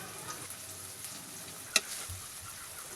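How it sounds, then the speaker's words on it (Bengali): Ground turmeric, chili powder, roasted cumin and salt sizzle in a pan with no water, a steady close frying hiss with soft stirring scrapes and one sharp utensil tap midway. "মশলাগুলো ভালো মতো নেড়ে চেড়ে কষিয়ে নিতে হবে"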